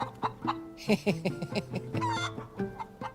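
Chickens cluck and squawk in a garden with an orchard, a close, busy run of short calls and chatter, one bird letting out a longer rising call partway through.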